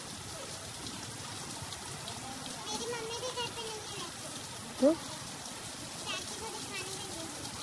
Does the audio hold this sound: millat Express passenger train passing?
no